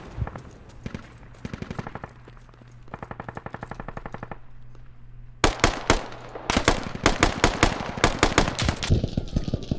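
Gunfire in the video game Squad: rapid automatic bursts, first moderately distant with a steady low engine-like drone, then a loud, close stream of sharp shots in quick succession, no talking.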